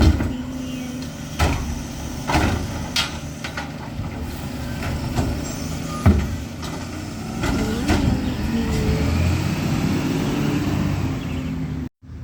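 A rubbish truck works along a suburban street in Darwin, emptying wheelie bins, its engine rumbling steadily under repeated clanks, bumps and mechanical whirs from the lifting arm, fairly close and without talk.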